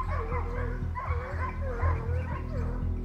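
A pack of hunting dogs bays and yelps continuously while chasing a boar in France, excited howling and whimpering barks rising and falling close by over a steady low rumble of movement.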